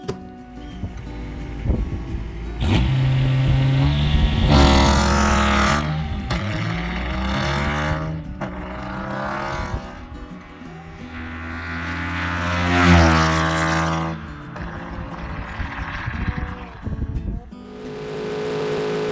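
A supercharged 719cc Kubota diesel engine runs steadily with a throbbing, droning note, surging louder in several swells and easing back, heard up close with no talking.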